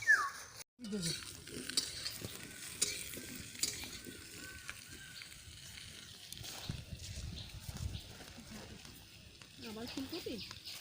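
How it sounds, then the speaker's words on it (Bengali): Lentils crackle and sizzle in a hot pan with occasional stirring and clinks of a utensil, while a voice talks quietly nearby. "মা তো ডাল ভাজা শুরু করে দিয়েছে"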